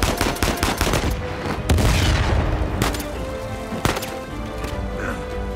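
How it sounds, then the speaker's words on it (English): Sniper and RPG fire in a firefight from the video game Uncharted 4, with repeated sharp gunshots and heavy booming blasts in dense succession, loud and continuous with no talk. "Okay, we got snipers and RPGs."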